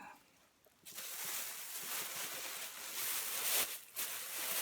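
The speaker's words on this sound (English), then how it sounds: "Sorry about the bag noise." A plastic bag crinkles and rustles continuously at close range while a comic book haul is unpacked, a soft hissy scrunching that swells and dips for several seconds with no speech.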